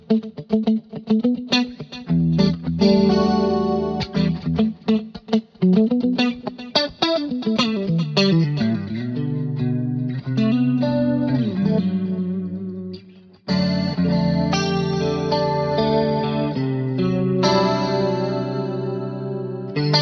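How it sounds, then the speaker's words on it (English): Guitar through a BOSS GX-100 preset with heavy chorus and vibe, playing swirling, wavering chords and single notes. Strummed phrases ring out alone, with one brief gap before the playing resumes. "The way which I've gone about that is to add in some chorus and a vibe"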